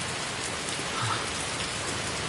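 Heavy rain pouring down in a dense, even hiss that stays loud and constant from start to finish, close and enveloping, with no talking.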